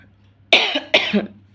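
Two close, sharp coughs in quick succession, loud against an otherwise quiet background.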